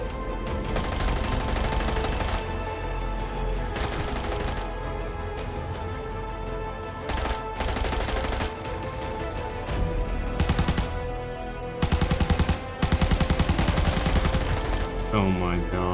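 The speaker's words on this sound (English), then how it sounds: "the number 9 option, being the RPK, which is a large LMG" RPK light machine gun firing in the shooter game Arena Breakout, long sustained bursts of rapid automatic fire broken by short pauses, loud and close, with a voice briefly heard.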